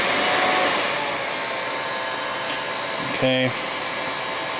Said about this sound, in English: I'm going to start the motor first. Now, turn the motor speed down to its lowest.